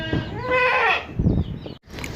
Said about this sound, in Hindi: घर का पला हुआ बकरा है ये।